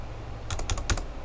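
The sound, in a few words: typing on a computer keyboard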